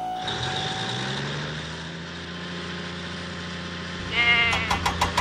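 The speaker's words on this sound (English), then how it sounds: "Thomas must deliver the goats to Farmer McCall's farm." A goat in a Thomas and Friends video game gives one long drawn-out bleat over a low idling engine hum, then a quick series of short bleats at the end.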